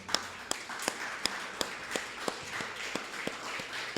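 A church congregation claps in a slow, even rhythm, sharp single claps landing about twice a second over a faint room murmur, sounding sparse and moderately distant rather than a full ovation.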